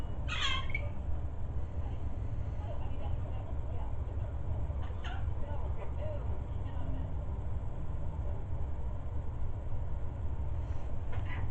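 A pet parrot squawks indoors, a sharp harsh call near the start and a few shorter calls later, over a steady low background hum, with a person talking nearby.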